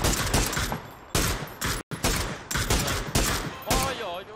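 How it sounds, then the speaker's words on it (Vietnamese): Heavy gunfire in a fast exchange of loud, close shots and bursts, broken by one brief pause, with a voice speaking near the end. "Nó bắn dữ quá, nó bắn dữ quá."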